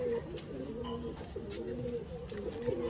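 A young Madrasi pigeon gives soft, repeated throaty coos close by, with a voice murmuring in the background.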